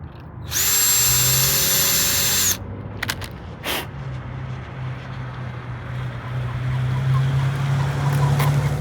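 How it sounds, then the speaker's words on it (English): A high-pitched power drill whines loudly for about two seconds while enlarging a hole in a van panel, then stops, leaving a steady low rumble and a few faint clicks. "I'm gonna have to drill that hole out a little bit"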